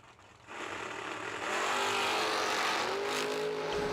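Drag racing cars, a Dakota and a Mustang, launching at a summer drag racing event: engines rise from a rumble into a loud, sustained roar of accelerating revs, swelling and holding near and powerful.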